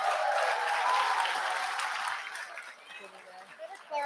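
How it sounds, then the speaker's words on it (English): An audience applauds a graduating medical school class, dense clapping that fades after about two seconds, giving way to scattered voices and a few sounds nearby. "A big round of applause to the class of"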